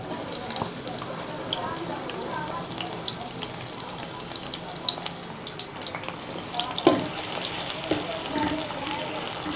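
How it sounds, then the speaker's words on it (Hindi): Onions sizzle and crackle steadily in hot ghee for an aloo anday masala, a continuous close frying hiss with small pops, with a voice speaking over it at times. "घी हमारा गर्म हो चुका है। अब इसमें हम डालेंगे प्याज"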